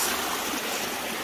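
Creek water flowing steadily over bedrock in a West Virginia gold-prospecting spot, a loud, continuous broadband rush filling the whole short stretch without pause.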